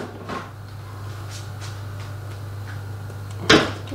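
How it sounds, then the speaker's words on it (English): A kitchen fridge gives a few thuds and knocks over a steady low electrical hum, with one sharper, louder bang near the end and no talking. "Don't excuse the banging, it's just the fridge."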